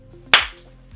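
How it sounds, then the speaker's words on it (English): A single sharp hand clap, loud and close, rings out once in a quiet room with a faint hum underneath, struck to sync the recording before a gaming PC build. "Clap."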